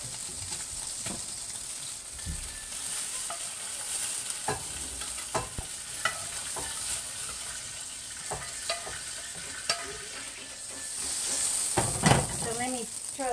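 Ratatouille with sausage sizzling and frying in a Dutch oven, with steady hiss and occasional stirring clinks and scrapes, growing busier near the end.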